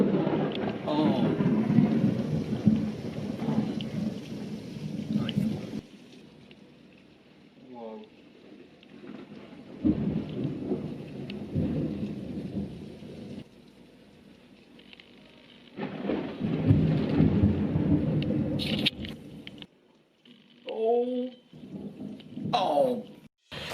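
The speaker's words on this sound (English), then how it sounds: "here are my top 10 favourite thunderstorm videos since my channel began" A thunderstorm rolls through in bursts of heavy rain and rumbling thunder, loud sections alternating with quieter lulls, with a few short voices breaking in near the end.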